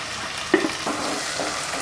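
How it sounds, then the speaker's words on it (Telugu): Chopped onions and green chillies fry in hot oil, a soft, continuous sizzle with a brief stir or clink near the middle, close and quiet, with no voices. "ఆయిల్ కాగిన తర్వాత ఆనియన్స్ పచ్చిమిర్చి వేసుకుని వేయించుకుంటున్నాను"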